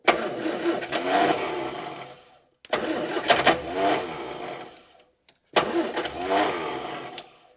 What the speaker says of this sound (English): the noise that you're hearing when it starts to rev up is pretty much the engine has fired